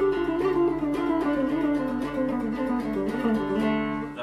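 A plucked guitar in Indian classical style runs quickly through a scale, notes cascading one after another in a steady, flowing rhythm.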